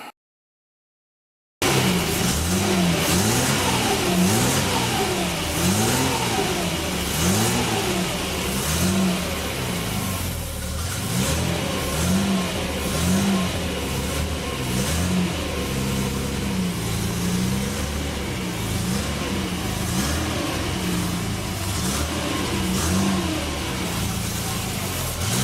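A Jaguar E-Type V12 engine revs hard and close, its pitch rising and falling in repeated climbs and drops over a steady, loud mechanical roar with no talking.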